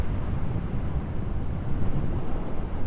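Steady rushing wind buffeting the microphone while riding a Yamaha MT-07 motorcycle at about 133 km/h, a dense, low, continuous roar with no breaks.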